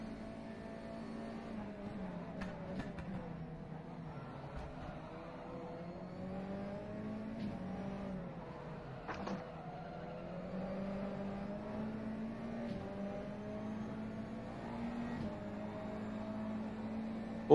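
A USF 2000 open-wheel race car in the rFactor 2 sim, racing around Indianapolis: a steady engine drone whose pitch rises and dips with throttle, holding at speed along the straight, with no talk.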